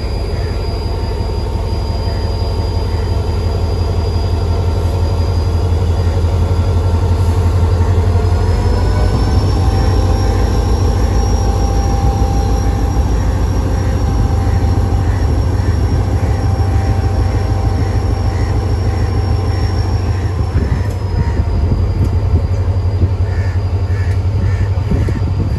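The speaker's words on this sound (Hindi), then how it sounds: "ये आज की हमारी 149 अब मेहरान एक्सप्रेस HGMU 30R 8204 के साथ रवाना हो रही है लांडी से मीरपुर खास के लिए" A Mehran Express passenger train hauled by an HGMU-30 diesel locomotive pulls out of Landhi railway station, a loud, steady rumble of engine and rolling stock with faint squeals and clatter throughout.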